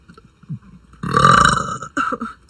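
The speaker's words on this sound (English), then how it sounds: "I burped for you guys." A young woman lets out a loud, drawn-out burp lasting about a second, followed by a shorter second burp, close to the mic in a quiet room.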